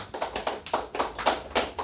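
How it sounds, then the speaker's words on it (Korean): A small audience at a church sermon claps together in a steady, fairly quick rhythm, the claps moderately loud and close with no talk over them. "박수 한번 치야죠, 이때는"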